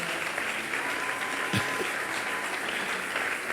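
An audience at a church gathering applauds steadily, dense and sustained clapping that fills the room at an even level, with a voice faintly present underneath.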